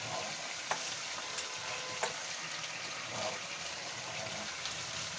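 Onion paste and ground coriander, cumin, chilli, Kashmiri chilli and turmeric fry in a pan with a soft, steady sizzle, broken by a few scraping stirs, close and fairly quiet with no talk.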